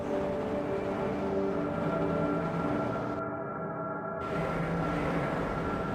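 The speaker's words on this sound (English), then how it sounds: "This train is inbound from level 3 dormitories to Sector C test labs and control facilities." A tram-style train in the Half-Life game rolls along its rails, a steady, dense rumble with droning tonal hum that continues evenly throughout, with no talking.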